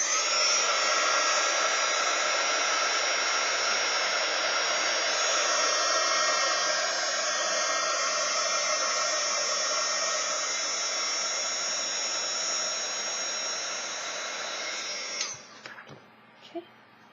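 Heat gun blows a steady, loud rush of hot air to soften leftover glue on a Dollar Tree Halloween sign, running continuously before cutting off near the end with a few clicks and handling noises.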